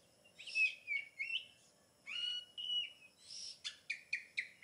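An Oriental magpie-robin calls with clear, loud whistled phrases and chirps, with short pauses between them, ending in a quick run of repeated sharp notes, no voices.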